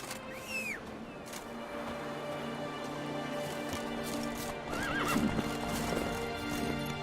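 Horse in the Witcher 3: Wild Hunt video game, hooves clip-clopping at a steady pace with a couple of short whinnies, near and clear over a soft ambient background.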